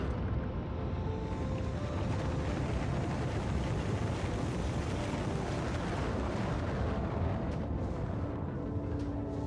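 A rocket launches from a rocket silo in the Factorio video game, heard as a steady, loud, roaring rumble that holds its level for nearly ten seconds.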